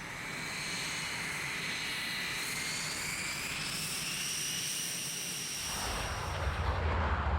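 A Lockheed U-2 reconnaissance aircraft flies high overhead, a steady distant jet drone with rising whine tones throughout, growing rougher and louder near the end.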